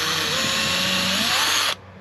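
A power drill bores through carpet inside a 1996 Four Winns Horizon 200 boat, a loud, close, steady whine that cuts off sharply near the end.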